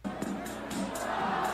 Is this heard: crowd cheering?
yes